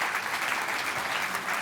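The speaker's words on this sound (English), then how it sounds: "Can you please give a big round of applause to Quentin Colmant" An audience at an insurance innovation conference applauds a company CEO being invited onstage. Steady, dense applause from a crowd continues without a break, with no voices heard.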